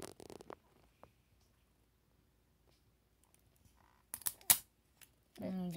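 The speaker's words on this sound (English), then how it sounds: "I'm going to go ahead and tape it" Strips of tape torn and pressed down to fix a paper number in place, brief scattered clicks and crinkles, then a cluster of sharp ripping bursts and a louder rustle near the end.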